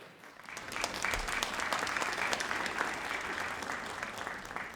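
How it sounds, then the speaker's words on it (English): A ceremony audience at a Dean's List recognition event applauds a university vice president, dense crowd clapping that swells within the first second and holds steady and fairly loud to the end. "VPSA always deserves a round of applause"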